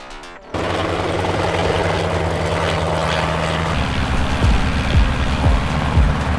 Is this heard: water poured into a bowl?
no